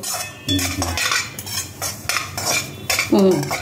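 Metal spoon stirring and scraping wheat semolina roasting in ghee in a pan, steady close scraping and clinks against the pan, with no one talking.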